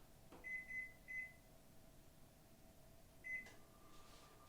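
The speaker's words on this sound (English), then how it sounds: "I'm going to pop into the microwave, and I'm going to just warm it up." A microwave oven warming dough hums at a low, steady level, punctuated by a few short electronic beeps and a clunk of the door or a button.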